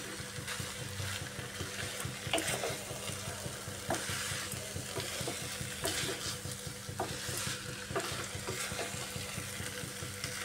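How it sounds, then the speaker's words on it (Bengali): Pointed gourd curry being sautéed in a pan, a steady close sizzle and frying hiss with occasional scrapes and clinks as it is stirred, continuous throughout with no talking. "কষানোটা খুব সুন্দর হয়েছে।"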